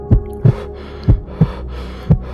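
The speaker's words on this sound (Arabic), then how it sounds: "نبضات قلبي بدت تتسارع" A heartbeat sound effect thumps five times, deep and loud, in an uneven rhythm against a low sustained droning backdrop, with no voices present.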